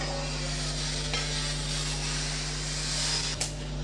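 Five garlic cloves frying in a pan for Tamil idli podi spice powder, giving a steady broadband sizzle with a constant low hum underneath and a brief clink near the end.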